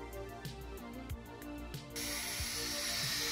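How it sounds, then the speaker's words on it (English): A metal seat bracket for a custom Recaro install in a BMW E30 is ground down. Light ratcheting clicks come first, then a steady, fairly loud grinding hiss takes over for the last second or so, with no voices. "is in there grinding away at the moment"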